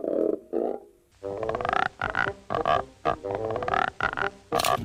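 A voice imitates a frog for a cartoon sound effect, giving a close series of rapid, throaty croaks in uneven bursts with brief gaps between them.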